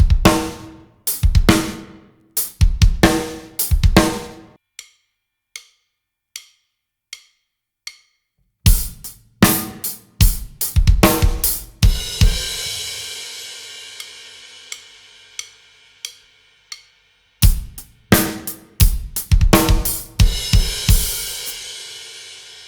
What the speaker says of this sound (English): We're starting with our typical hi-hat and then adding a slide double right before the snare.